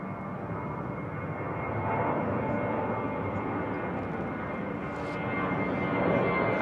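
A jet airliner climbs out overhead after departing London Heathrow Airport. Its loud, broad engine roar fills the whole stretch, swelling slightly as it passes, with no talking.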